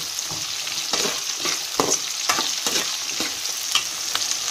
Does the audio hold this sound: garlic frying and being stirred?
yes